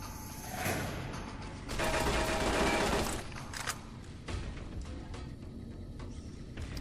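Turret gunfire in the video game Fallout: New Vegas: rapid, fairly quiet mechanical bursts mixed with clattering, loudest in the middle and continuing at a lower level afterward.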